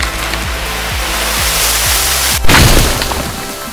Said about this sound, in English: Are there exploding trees around here? That did actually just explode.